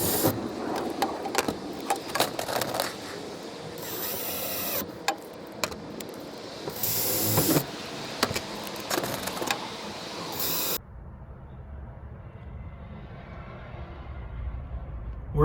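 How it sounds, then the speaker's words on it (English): A power drill or driver tightens screws into the ceiling of a 6x10 cargo trailer camper conversion, with repeated whirring bursts and clicks over about eleven seconds, then near-quiet room tone. "Now I'm going to go up there and tighten the screws"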